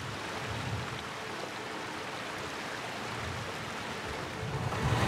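A river runs beside a rocky mountain path in Great Langdale, heard as a steady broadband rush of flowing water, close and even, with no voices.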